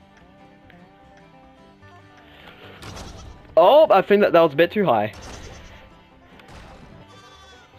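A cartoonish sheep bleats in a loud, quavering burst in the Skylanders Trap Team video game, over quiet game music, and a player talks before and after it.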